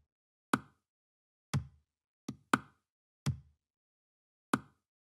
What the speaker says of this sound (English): I used the calabash, which is actually an African drum,